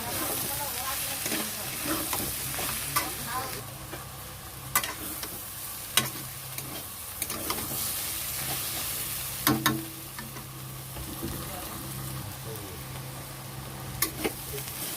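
Ghetkochu stems fry with jackfruit seeds and potato, seasoned with salt, turmeric and chili powder, in a constant close sizzle broken by scattered sharp clinks and scrapes of stirring, with no speech.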